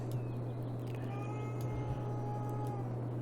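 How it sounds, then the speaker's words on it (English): A cat meows in the room, faint and drawn out, over a steady low electrical hum during a Cities: Skylines After Dark gaming session. "Ignore the cat"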